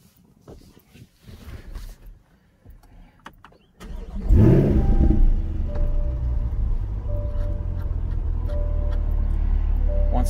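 A 2020 Corvette starts up: a quiet cabin with soft clicks and rustling, then the starter catches and the engine roars to life, settling into a loud, steady idle with a chime sounding over it.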